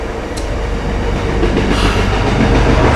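A train rolls past close by, a loud, steady rumble of wheels and rail clatter that builds slightly over three seconds with no talking.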